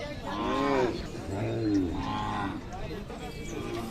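A cow at a Sangola Khillar cattle market gives two or three loud, drawn-out moos in quick succession, close by, with faint market noise underneath.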